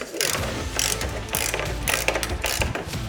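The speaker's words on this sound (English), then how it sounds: "I'm just going to tighten these little hinge adapters up so it brings these 2 sections together nice" A ratchet tool clicks rapidly and steadily while tightening hinge adapter bolts on a Vantech H2.1 roof rack on a Ford Transit Connect, a close, continuous mechanical clatter lasting a few seconds.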